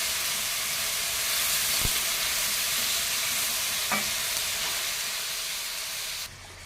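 Garlic, onion, tomato and ginger sauté in a pan with a loud, dense, continuous hiss. Two brief utensil knocks come through at close range, and no voices are present.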